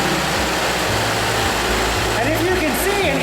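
A 2011 Subaru Outback idling after a remote start, a low steady engine hum with a faint rhythmic pulse, with a person talking over it.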